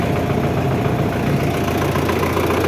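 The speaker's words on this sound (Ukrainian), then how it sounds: "А так тракторець, моторчик, коробка, це працює досить непогано." A tractor engine, an MTZ or YuMZ with a cab, idles steadily nearby, a constant low chugging rumble with no talk over it.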